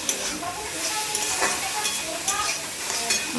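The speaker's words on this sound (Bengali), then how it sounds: "আমি শাকটাকে এইভাবে ভেজে নেবো" Water spinach (kolmi shak) frying in a pan gives a steady, close sizzle, with light stirring scrapes rising now and then over the hiss.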